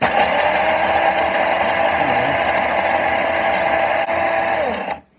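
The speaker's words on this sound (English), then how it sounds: "got my filters, beans, yes, and then grind them up." A coffee grinder whirs loudly and continuously as it grinds beans fine for cold brew, holding a steady motor drone before spinning down and cutting off at the end.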